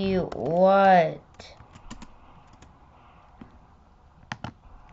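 Keyboard and mouse clicks during a game of Wizard Conquest: a voice rings out for the first second, then sparse, sharp clicks follow at irregular intervals, with a quick double click near the end.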